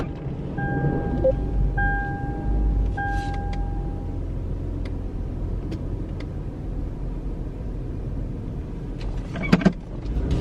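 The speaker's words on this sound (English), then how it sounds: "I'm just gonna put this car to the grass." A car rolls off the pavement onto grass, its low engine rumble steady beneath a few short electric whines early on, then scattered clicks and a brief louder knock near the end; no talking.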